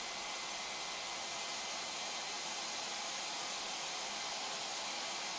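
The blower of a Leister VARIMAT V2 hot air welder runs with a steady, even hiss and airy rush, faint and unchanging from start to finish.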